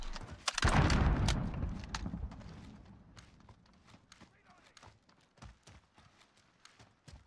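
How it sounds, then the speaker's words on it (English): Teammate footsteps in Call of Duty Modern Warfare, a loud thump at first, then a quieter run of rhythmic, light steps tapping along steadily. "I feel like they toned down the footsteps for teammates"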